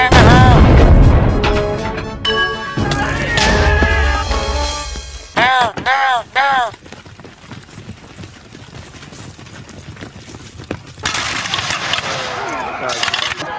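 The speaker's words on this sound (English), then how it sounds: "Fire the cannon." Loud booming cannon blasts in a village war simulation video game, heavy and echoing, followed by quieter rumbling and clatter while excited voices talk over the action.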